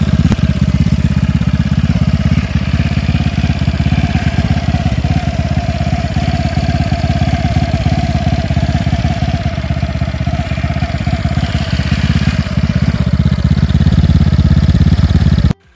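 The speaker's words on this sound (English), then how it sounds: "Here I have a short video of the pipe of the engine running." A four-stroke paramotor engine fitted with a carbon silencer runs steadily and loudly up close, a continuous droning exhaust note with a rough mechanical clatter and no change in speed until it cuts off abruptly at the end.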